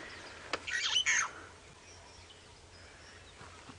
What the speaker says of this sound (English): These starlings are being so noisy.